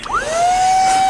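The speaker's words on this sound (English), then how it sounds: "this is the vacuum end, and this is the duster, the blower end." An electric air duster spins up with a rising whine that settles into a steady, loud high-pitched blowing tone, close and alone.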